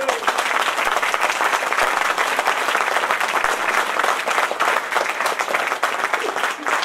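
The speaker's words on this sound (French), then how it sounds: "on peut le féliciter, mais aussi l'applaudir." Sustained audience applause at a French political gathering, dense continuous clapping from a large crowd, loud and even throughout with a faint murmur of voices underneath.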